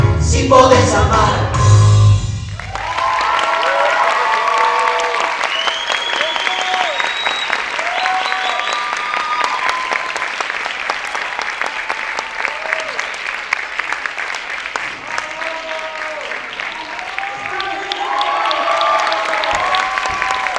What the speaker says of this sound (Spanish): Muchísimas gracias para este fuerte aplauso